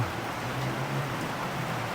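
Steady rain pours down on bathing pigeons in a loft aviary, a continuous wash of hiss, close and even, with a low rumble underneath; no voices.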